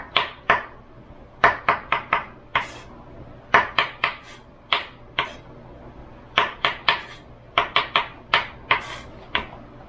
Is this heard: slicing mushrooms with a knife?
yes